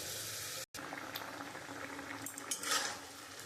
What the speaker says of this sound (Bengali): একটু জলটা ফুটবে।